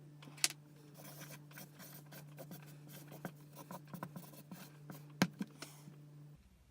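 Pen scratching across a single sheet of white paper while a hockey playoff bracket is filled in, a quiet, irregular run of short scrapes and taps with a few sharper clicks, close and faint with no talking.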